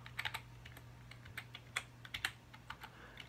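Quiet, irregular keystrokes on a computer keyboard beside a Mac Pro during a Boot Camp Windows install, a brief run of light clicks with no talk.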